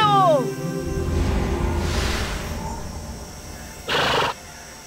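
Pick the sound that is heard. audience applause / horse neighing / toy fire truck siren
horse neighing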